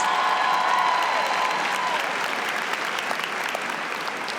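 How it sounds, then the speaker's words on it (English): Sustained audience applause at a college commencement ceremony, a dense steady wash of many hands clapping that holds loud and even throughout, with no speech. "Please give Symone Sanders Townsend another round of applause."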